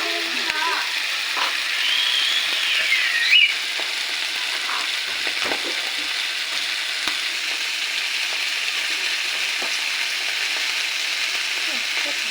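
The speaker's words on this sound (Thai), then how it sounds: "ผัดใส่พริกแห้งดอก" Dried chilies sizzle steadily in a hot pan while being stir-fried for an eel curry, a constant bright frying hiss with soft scrapes of stirring throughout.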